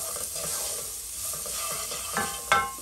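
Onion frying with garlic in a pan gives a steady close sizzle with rough stirring scrapes and a sharper crackle burst near the end, with no voices.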